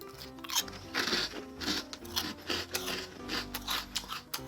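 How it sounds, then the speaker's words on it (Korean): Close, crisp crunching and biting of brittle shrimp-flavoured rice crackers, repeated bites and chews in an irregular rhythm with no talking. "굉장히 아주 바삭바삭하면서 또 새우깡에 그 씹히는 그런 느낌"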